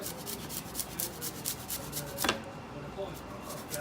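Fresh ginger rasped against a kitchen grater in quick, regular strokes, close but fairly quiet, with a single sharp knock midway and faint background speech underneath.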